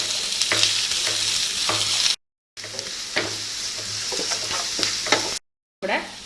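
Finely chopped onion and green chilli fry in hot oil in a pan while being stirred, a loud, continuous close sizzle with scraping stir strokes and two brief silent gaps.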